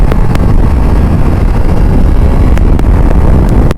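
A motorcycle ridden hard at high speed, captured on a GoPro, gives a loud, continuous roar buried in heavy wind buffeting against the microphone.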